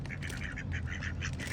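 Ducks at a lake quack repeatedly in a lively, overlapping chorus, close and clear over a low background rumble.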